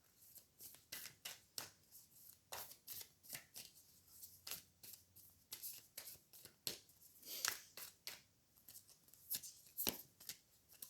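Oracle cards are shuffled by hand in a quick, uneven series of crisp riffling slaps and flutters, close and fairly loud, continuing throughout with no talking.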